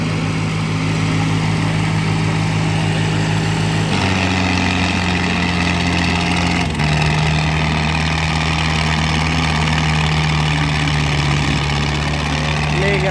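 New Holland 3600-2 and Black Bull tractor engines at a tractor pulling contest give a loud, steady, close-up mechanical drone with small shifts in pitch and faint voices underneath.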